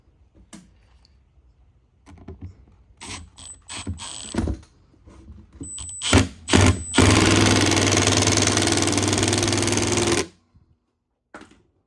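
A power drill drives larger screws into a pool salt controller sun and rain cover, with short bursts of motor whine and clicking, then a sustained loud run of several seconds before stopping.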